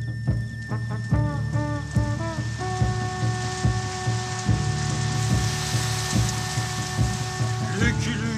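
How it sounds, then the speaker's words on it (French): Cartoon rain pours down to put out a fire, a steady hiss of falling drops and sizzling with sustained musical tones and rhythmic low thumps running underneath. "la pluie va venir et va éteindre le feu"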